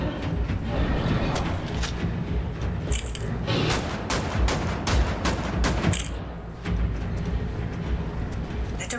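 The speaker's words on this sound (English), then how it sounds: "Okay, shotguns." Shotgun blasts in the video game Wolfenstein: The New Order, a rapid series of loud booming shots in bursts over a dense rumbling combat din.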